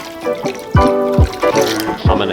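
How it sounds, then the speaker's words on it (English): Water runs into a homebrew kettle for heating with steeping grains, pouring and splashing in uneven bursts with a rising filling tone, close up. "Let's go add some water to this thing and get it warmed up."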